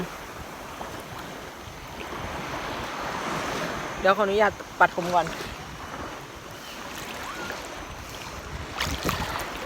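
Ocean waves wash steadily onto a beach, a continuous broadband roar with some wind, while someone talks over it in the middle.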